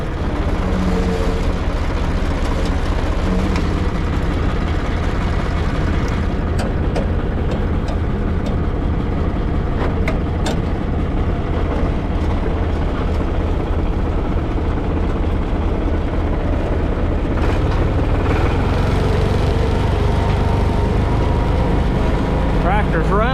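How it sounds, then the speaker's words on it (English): An International 464 tractor engine runs steadily and loudly close by, a continuous low rumble that holds through the whole stretch with no talk over it. "Tractor's running good."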